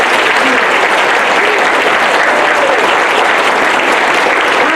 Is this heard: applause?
yes